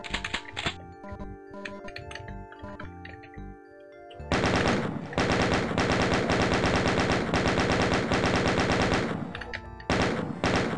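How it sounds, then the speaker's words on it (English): Rocket launcher firing in Doom, with a cluttered mix of game sounds at first and then a long loud stretch of rapid, dense gunfire-like bursts that thins out near the end. "Rocket launcher"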